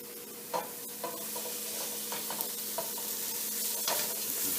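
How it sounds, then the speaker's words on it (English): Squash sautéing in a pan with softened onion and garlic for a low-carb Spanish rice: a steady close sizzle broken by scattered light scrapes and clicks of stirring, with no talking. "Now that the onion and garlic has sauteed and the onion has softened a little bit, which is the goal at this point, I'm going to go ahead and start adding in the squash"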